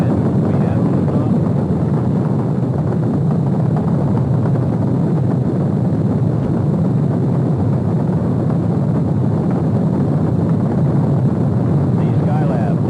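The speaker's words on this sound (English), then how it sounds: "The Skylab lifting off the pad now, moving up." A Skylab rocket launch lifts off the pad as a loud, continuous broadband roar, steady and heavy with low rumble for the whole stretch.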